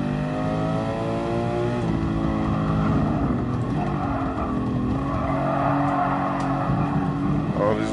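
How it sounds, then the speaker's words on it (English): A racing car engine revs up and down through gear changes in the video game GT Sport at the Nürburgring, with sharp crackling exhaust pops scattered throughout. "Little nice crackling pops in the exhaust."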